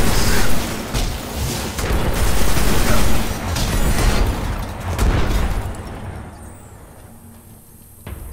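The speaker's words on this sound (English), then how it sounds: "I think we got a few of them in that grenade" Grenade explosion in the video game Destiny on Xbox One, a loud booming blast with crackling debris and gunfire-like bursts that fade to quiet over several seconds.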